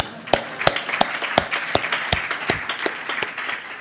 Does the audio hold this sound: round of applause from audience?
yes